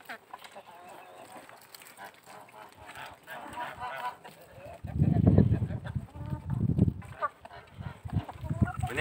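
Hungry chickens cluck and squawk close by in a noisy burst, with softer bird calls before and a voice speaking faintly in the background.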